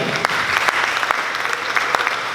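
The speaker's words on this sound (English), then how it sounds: "let's give a round of applause to MPI" Close, loud applause from a crowd at a peacebuilding program opening ceremony, dense clapping with a few sharper individual claps standing out.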